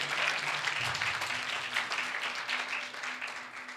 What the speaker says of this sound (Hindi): जोर से ताली बजाएंगे